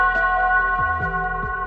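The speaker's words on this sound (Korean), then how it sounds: "낮고 묵직한 종소리가 머릿속을 울렸습니다" A low, heavy bell tone used as a sound effect in a Korean folktale audiobook, striking and ringing out with a long sustained hum and a couple of soft swells, heard alone without narration.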